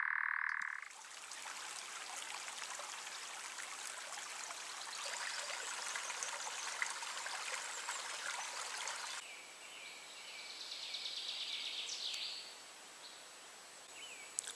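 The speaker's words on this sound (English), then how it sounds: "soon we were falling asleep to the sound of a churring nightjar" A nightjar churring at night in a forest, heard as a continuous, steady trilling drone that runs throughout at moderate distance, with faint background noise and no voices.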